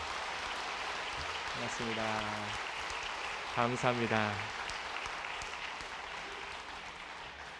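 A church congregation applauds to welcome visiting elders and a pastor, a steady wash of clapping across the room while someone speaks brief greetings over it.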